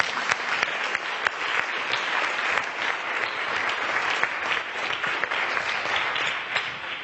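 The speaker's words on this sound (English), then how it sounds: "Can we give him another round of applause?" Steady applause from a seated audience at a panel talk, dense clapping sustained at moderate level without a break.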